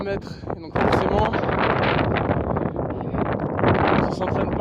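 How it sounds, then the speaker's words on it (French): Strong mountain wind buffets the microphone at about 3500 metres altitude, a loud, continuous roaring rush after a brief softer opening. "Il y a beaucoup de vent, je me gèle le cul."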